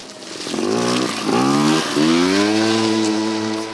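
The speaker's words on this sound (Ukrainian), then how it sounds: "Всередину палацу також заїжджають на скутерах." A small-engine scooter rides through the ruins of an abandoned palace, its motor buzzing close and loud and revving up in rising pitch sweeps several times before settling into a steady drone.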